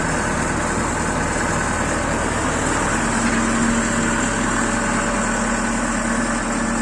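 A John Deere 1052 combine harvester's engine runs at a steady idle, a loud, continuous rumble with a constant mechanical drone and no speech.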